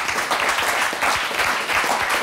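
Audience applause welcoming guests to a literary talk show, a dense steady wash of many hands clapping with no break, fairly loud and close.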